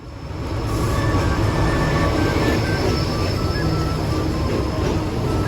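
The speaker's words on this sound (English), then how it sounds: "Here's the train we took to Machu Picchu town that evening." A train to Machu Picchu town, Peru, rumbles along steadily, loud and close, with a continuous roar and faint high squeals from the wheels.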